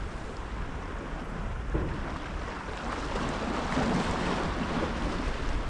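Wind and waves wash around a boat at sea during night fishing, a steady broad rushing roar with gusts buffeting the microphone and no talk.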